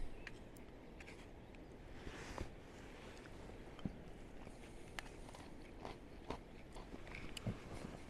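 Someone eats beef and vegetables mixed with cracker bits from an Italian military ration, with faint, close chewing and occasional soft bites and clicks over low background noise, and no one speaks.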